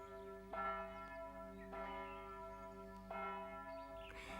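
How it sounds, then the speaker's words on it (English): Church bells ring from a steeple, several loud struck peals arriving at uneven intervals, each leaving a long sustained harmonic hum, with no voices. "they rang the bells so hard that they almost knocked down the steeple"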